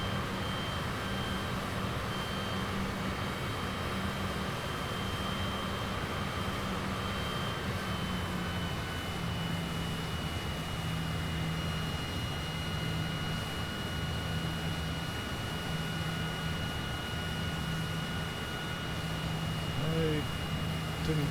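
Cessna Citation CJ4 business jet taxiing in Microsoft Flight Simulator 2020, a steady, even jet engine whine and rumble held at constant level throughout, with no break or change in pitch.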